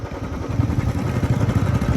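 A motorcycle rides along a mountain road toward Resunga temple in Gulmi, Nepal, heard from the pillion seat, its engine a steady, close, unbroken rumble for the whole two seconds.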